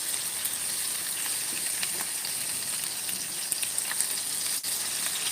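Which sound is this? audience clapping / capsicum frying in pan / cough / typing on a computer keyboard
capsicum frying in pan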